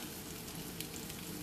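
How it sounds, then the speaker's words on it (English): Onions and peppers sizzle in a hot pan, a steady, moderately quiet frying hiss with faint crackles and no voices. "I'm going to add in my onions and peppers."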